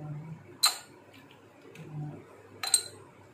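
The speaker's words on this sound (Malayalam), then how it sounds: "ഇനി നമുക്ക് ഇതിലേക്ക് രണ്ട് ഐസ് ക്യൂബ്സ് ഇട്ട് കൊടുക്കാം" Two ice cubes drop into a glass of guava juice, giving two sharp, close clinks about two seconds apart over a faint low hum, with no talking.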